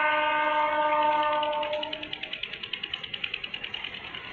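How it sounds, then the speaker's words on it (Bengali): A train passes close by farm fields in a countryside village: a loud, sustained horn blast for about two seconds, then a steady rhythmic clatter of wheels over rail joints that continues to the end. "ওই দেখো আর একটা ট্রেন চলে আসলো ওদিক দিয়ে"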